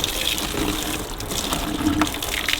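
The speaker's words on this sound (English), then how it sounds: "so now we've got to rinse it out" Water running and splashing while rinsing out the fuel tank of a 1957 Douglas Dragonfly motorcycle during a Fertan sealer treatment, a steady close wash with no talk.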